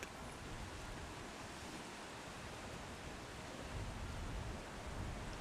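Steady broadband wind rush roars over an outdoor microphone at a lawn bowls tournament at the Glen Country Club, continuous and fairly even with slight swells, no voices.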